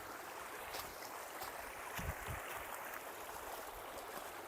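A forest stream flows with a steady, close rush of water that holds an even level throughout, with no voices.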